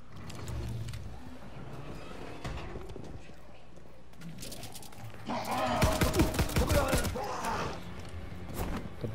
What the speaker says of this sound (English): Combat shotgun.